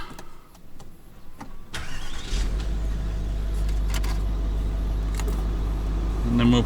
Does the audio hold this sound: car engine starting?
yes